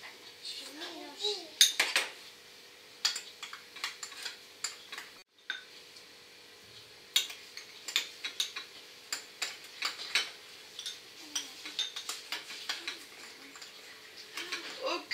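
A child stirs whipped cream in a bowl with a utensil, giving a run of light, irregular clinks and scrapes against the bowl. A young voice speaks briefly at the start.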